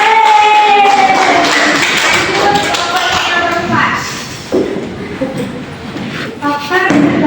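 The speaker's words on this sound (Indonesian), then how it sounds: "Kasih tepuk tangan dulu." A class of students claps their hands in a classroom, a loud burst of mixed clapping and tapping that continues unevenly with shuffles and thuds, with voices mixed in.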